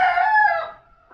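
A rooster lets out a single loud, close crow lasting under a second, a bright strained call that trails off into a faint short cluck at the end.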